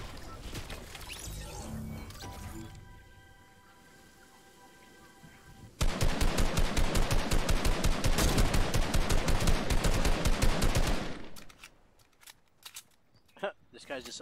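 Rapid automatic gunfire from a Fortnite match bursts in loud and dense for about five seconds, a sustained spray of shots that then breaks off into a few scattered single reports, with game sounds and some talk before it.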